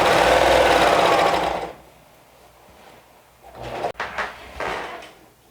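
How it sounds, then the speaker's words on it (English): Serger sewing a set-in sleeve seam with a half-inch seam allowance: a loud, rapid mechanical buzz runs close up for under two seconds and then stops, followed by quieter fabric handling and a few clicks and rustles. "So we'll run it through the serger with a 1/2 inch seam allowance."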